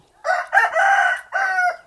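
A rooster crows loudly and close by, a single drawn-out call in several strained, rising and falling segments.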